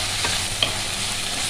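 Fenugreek leaves frying in oil for a green mango rice dish, a dense continuous sizzle with a couple of brief stirring scrapes, close and fairly loud.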